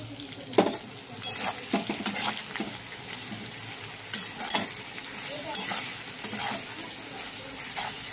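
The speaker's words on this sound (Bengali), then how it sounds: "এবার এই মশলাটা দিয়ে আমি কষিয়ে নেব" Spices, including turmeric, salt, ginger and cumin, are stir-fried in a pan for a Bengali bitter gourd and fish curry, with a loud close sizzle and repeated scraping strokes of a spatula against the pan.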